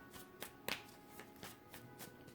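Tarot cards are shuffled close up in a few quick, crisp riffles and taps, quiet and without speech.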